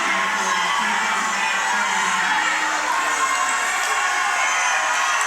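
A crowd at a Division III men's college basketball tournament game reacts to a blocking call, a steady wash of shouting and cheering voices filling the gym at a moderate distance.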